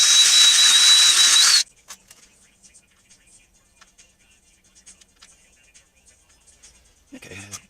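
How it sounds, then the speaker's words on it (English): A power drill bores a 3/8-inch hole in a Subaru rock slider mount, with a loud, steady whine for about a second and a half before cutting off, followed by quiet handling noises and a brief voice at the end. "Apparently my drill bit isn't exactly 3/8."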